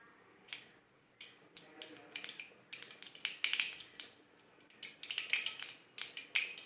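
Mustard seeds splutter and pop in hot oil for a Tamil potato fry, a dense run of sharp crackles that come in bursts and grow busier, close and bright, with a voice talking faintly underneath.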